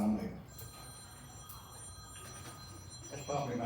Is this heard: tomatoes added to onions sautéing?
no